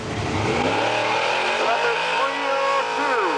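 A 1946 Ford Roadster drag car with a 331 Chevrolet engine accelerating down the strip, its engine roaring loud and rising in pitch through the gears while an announcer talks over it.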